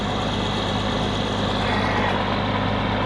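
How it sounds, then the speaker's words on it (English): Steady traffic on a nearby road, with a continuous low engine rumble and broad road noise from passing vehicles, heavy trucks among them, droning on without a break and with no talk. "All these cars drive by."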